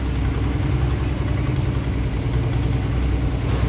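A New Holland pulling tractor at a tractor pull in Bloomsburg, Pennsylvania, runs with a loud, steady, deep engine rumble that holds an even idle-like drone throughout, close and unbroken.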